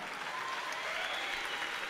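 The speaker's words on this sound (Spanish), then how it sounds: "Un aplauso, señores, para estos dos guerreros," Applause from the crowd at a Lux Fight League MMA event for two fighters after a three-round bout, a steady dense wash of clapping throughout, loud and close.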